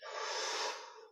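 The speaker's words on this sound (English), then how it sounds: "deep breath, lift" A single deep, steady breath during a tai chi exercise lasts about a second, close and soft, with no talk.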